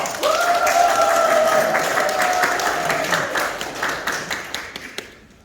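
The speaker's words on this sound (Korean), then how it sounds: "큰 박수 부탁합니다" Audience applause at a company branch office relocation ceremony, with a sustained tone over it at first, then the clapping thins into a few separate claps and stops.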